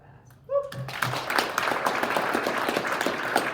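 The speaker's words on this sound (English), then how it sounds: "I'm almost done making you guys clap." An audience at an International Women's Day event bursts into sustained clapping that starts abruptly after a moment of quiet and holds steady to the end.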